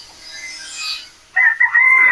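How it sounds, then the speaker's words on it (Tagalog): Chickens crowding a Philippine farm, a bright crowing-like call rising out of a clucking, chattering flock after a quieter first stretch, fairly close and loud. "ito po yung napakaraming manok dito mga idol sa farm"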